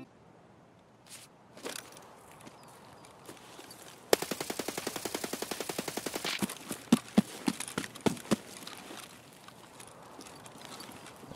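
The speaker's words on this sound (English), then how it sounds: "the first footstep of the guy who is around 60-70 meters away is loud and audible" Footsteps of a distant player in the Escape From Tarkov video game: a long, rapid, evenly spaced run of sharp steps in the middle, then several louder, scattered impacts over quiet ambient background.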